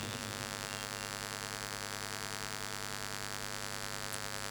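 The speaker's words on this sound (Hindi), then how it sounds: "पंखे की आवाज़ से मुझे प्रॉब्लम है" A steady electric hum from a ceiling fan during a religious conference gathering, constant and unchanging throughout with no voices, a dense low drone at moderate level.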